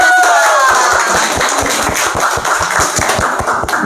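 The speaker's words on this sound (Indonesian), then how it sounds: "Tepuk tangan untuk" An audience at a school podcast event claps in sharp, irregular taps. The clapping is fairly close and continues for a few seconds after a voice fades out.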